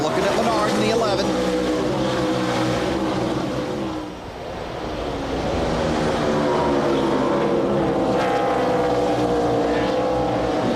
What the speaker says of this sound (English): Robbie Gordon in the 55 car following the 11 car of Paul Menard